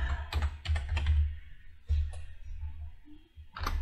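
Keys tapped on a computer keyboard while a search word is entered in a Canva design session, a few quick bursts of close clicks separated by short pauses.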